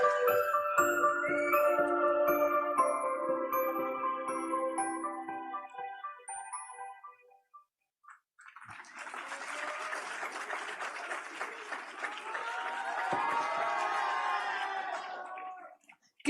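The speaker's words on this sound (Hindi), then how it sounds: "तालियां" Chiming, tinkling music plays first, then after a brief pause a crowd at an alumni gathering breaks into applause with some cheering, swelling and then tapering off.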